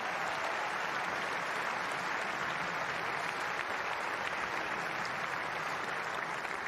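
A large crowd applauds steadily at the 2025 London women's tennis final, Amanda Anisimova against Tatjana Maria, as a dense, unbroken wash of clapping with no voices.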